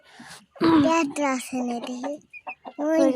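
Free-range village hens cluck together while feeding, close and clear, with bursts of clucks and rooster-like calls, and a voice talking intermittently among them.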